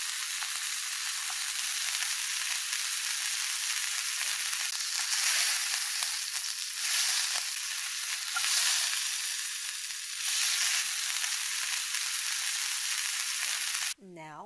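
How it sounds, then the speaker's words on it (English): Burger meat patty frying in a pan over medium heat, a steady loud crackling sizzle running unbroken for the whole stretch, with a short clatter right at the end. "I will fry it for 7 minutes on each side over medium heat until crisp."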